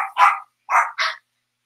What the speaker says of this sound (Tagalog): pasensya na kayo sa mga aso ko kasi wala naman sariling yaya yan.